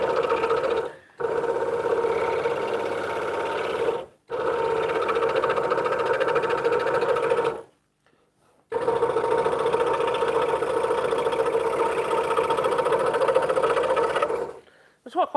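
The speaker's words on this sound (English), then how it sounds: "make sure the blade is doing the cutting and you're not forcing and twisting the blade" A scroll saw blade cuts with a steady buzzing, mechanical hum in long, even runs, stopping briefly several times, close and with no talk.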